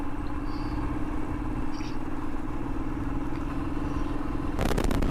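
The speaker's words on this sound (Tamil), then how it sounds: "ஓகே, வண்டி இப்போ வந்து டாப் ஸ்பீடு போய்கிட்டு இருக்கு. 130 இல்லை 125 கிலோமீட்டர் ஸ்பீடில் போயிட்டுருக்கு வண்டி." A Royal Enfield motorcycle rides at top speed, around 125–130 km/h, giving a loud continuous engine drone with heavy wind rush and a clattering burst near the end.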